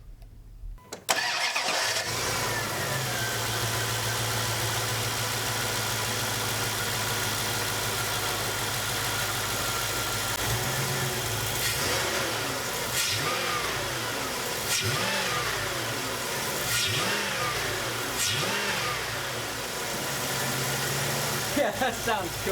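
A Dodge Dakota fitted with a cold air intake and throttle body mod cranks and fires up, settles into a steady idle, then gets blipped through a series of sharp revs, close and loud, with voices talking over it.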